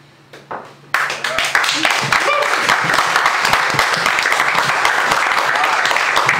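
An audience at a poetry reading breaks into applause after a quiet start, the clapping swelling quickly and then continuing as dense, steady clapping throughout.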